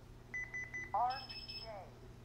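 A Lyric security system panel arming in stay mode: a quick series of five short electronic beeps, then a higher run of beeps while a person speaks quietly over them.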